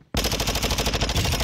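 Rapid automatic gunfire in a first-person shooter game bursts in abruptly after a short silence and rattles on loud and close in a fast, steady stream of shots.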